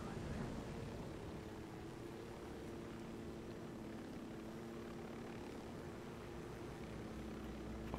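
Helicopter in the military shooter Ghost Recon Wildlands, a steady low rotor and engine drone heard from inside or nearby, fairly quiet and continuous, with no distinct events.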